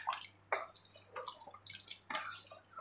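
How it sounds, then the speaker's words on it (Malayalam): About half a cup of water is poured into a pot of home-style chicken curry, giving a few short splashing bursts and drips with quiet gaps between them. "അതിന് അര കപ്പ് വെള്ളത്തോളം ഒഴിച്ചു കൊടുത്തു."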